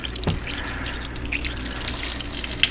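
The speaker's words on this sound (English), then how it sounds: "I got the infamous Chris Fix soapy water. We'll give it a full douching here." Soapy water is sprayed over a Hyundai Sonata during an EVAP leak test, giving a close, continuous hiss of spray and splashing liquid with a short sharp burst near the start.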